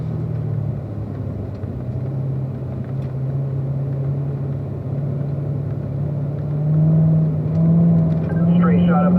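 A Corvette engine drones steadily at a low, even pitch as the car runs along a race track, the note climbing slightly near the end, with a driver's voice talking over it.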